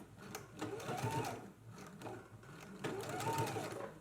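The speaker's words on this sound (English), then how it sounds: "All right, now let's go ahead and baste these in place." A sewing machine bastes belt loops onto a dress waistband, running in two steady stitching bursts of about a second each, separated by a short pause. The motor whirs close and clear with no talking.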